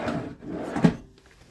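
A drawer in an RV bedroom sliding open or shut, a short wooden rub and bump heard up close, with nothing else over it.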